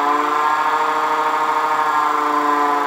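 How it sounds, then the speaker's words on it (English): A wood lathe set up for spindle turning runs steadily at about 2000 rpm, giving a smooth, even, close-up motor whine that holds constant for the whole stretch with no talking. "before we start the lathe up, and there we're on the slowest speed"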